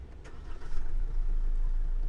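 A Peugeot Landtrek 4Action 4x4 with a 1.9 liter turbo diesel starts up, its low engine rumble building quickly and settling into a steady, close idle with no talking.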